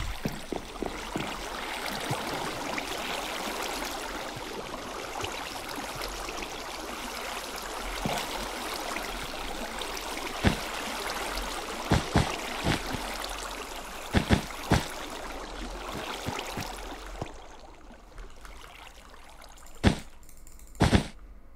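Water placed as a bed defense in Minecraft Bedwars flows with a steady rushing trickle, broken by sharp clicks and pops from block placement and combat, fairly quiet and without talk.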